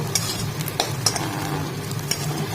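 Spiced food frying in a pan and being stirred by hand. Close, steady sizzling runs under repeated clinks and scrapes of a spoon against the pan.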